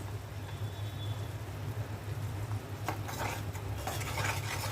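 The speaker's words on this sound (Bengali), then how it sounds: "এখন ভালো করে কষিয়ে নিব ঝোলটা" Fish curry gravy with turmeric, chilli, cumin and coriander cooking down in a pan over a steady low hum, faint simmering, then a burst of spoon scraping and stirring near the end.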